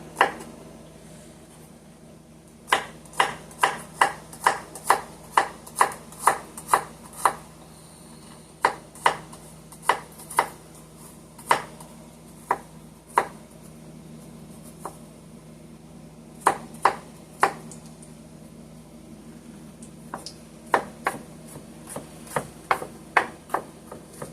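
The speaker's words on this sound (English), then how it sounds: "And I'm going to chop up a fresh garlic clove." Knife chopping a fresh garlic clove on a cutting board gives sharp, close taps, coming in quick irregular runs with short pauses between bursts.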